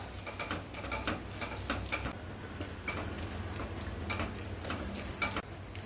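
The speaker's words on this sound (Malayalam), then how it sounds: "ഇതൊന്ന് ഇളക്കി കൊടുക്കാം" Mushroom risotto stirred in a pan after a pinch of oregano, a steady wet scraping and sizzling with repeated spoon strokes close by, no voices.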